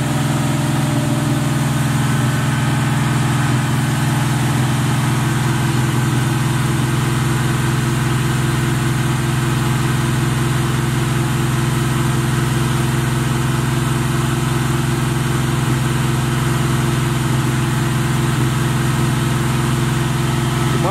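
A Box Chevy's engine idles loudly and close by with a steady, even, low rumble that holds unchanged for about twenty seconds, with no talking over it.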